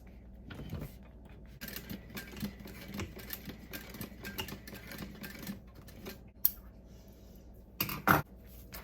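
A sewing machine stitches a bag in quick rhythmic bursts of needle clatter, starting and stopping several times, fairly quiet and close with a couple of sharper clicks near the end.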